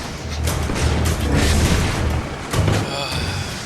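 Grenades go off in the inFamous video game as repeated loud, low booms over a constant rumble of gunfire and combat, with a voice talking over the action.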